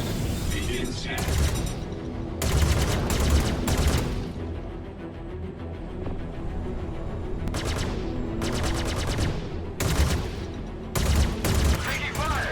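Bursts of gunfire strike a ship in the space game Star Citizen, loud rattling volleys in several separate clusters against a continuous background hum.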